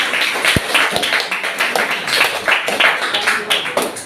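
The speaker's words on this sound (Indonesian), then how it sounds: "tepuk tangan untuk kita semuanya" A steady patter of clapping from a class fills the room, dense and continuous, with a couple of sharper thumps near the start.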